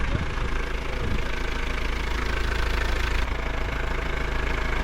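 A vehicle engine runs steadily on a rough mountain road to Fairy Meadows, a dense continuous rumble with rattling and road noise, loud and close without pause.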